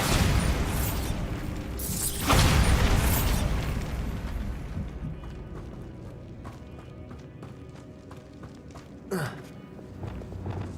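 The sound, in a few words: Bombarda explosion spell being cast in video game Hogwarts Legacy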